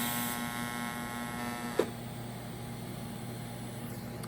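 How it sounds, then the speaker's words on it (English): A welder at about 94 amps heats a metal sculpture part with a faint, steady electrical hum and buzz. A sharp click comes partway through, after which the tone shifts slightly and carries on. "I'll start the welding, I'll heat up the part"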